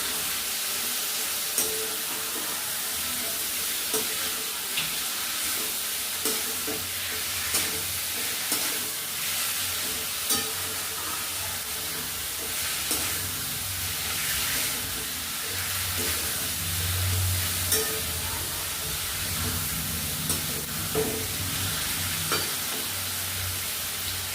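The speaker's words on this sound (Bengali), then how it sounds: "মশলা কষা হয়ে গেছে, এবার মাংসটা দিয়ে দিচ্ছি" Mutton being stir-fried in a spice paste over a village cooking fire, a constant frying sizzle with repeated scraping and stirring knocks from a spoon in the pot, close up and without talk.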